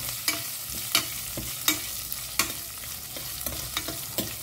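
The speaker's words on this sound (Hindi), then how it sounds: "करी पत्ता और अब इसको ना हल्का सा सॉटे करते हैं" Curry leaves sauté in hot oil with asafoetida over a low flame, soft sizzling under a run of quick scraping stirs from a spoon against the pan, close up, no voices.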